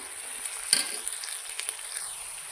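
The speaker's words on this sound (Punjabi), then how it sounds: "ਹਰੀ ਮਿਰਚ ਪਾ ਦਾਂਗੇ ਫਿਰ ਇਹਦੇ ਵਿੱਚ ਹਰੀ ਮਿਰਚ ਨੂੰ ਕਰ ਦਾਂਗੇ ਮਿਕਸ" Green chillies frying in a tadka as they are stirred in, a steady close sizzle with faint crackles and a few soft scrapes of the spoon, no talk.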